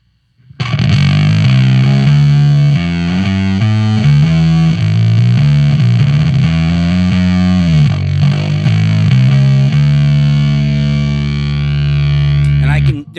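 Breadboarded avalanche transistor circuit tacked onto an audio output, giving a loud, buzzy, heavily distorted tone with shifting low pitches that holds steady for about twelve seconds before cutting off.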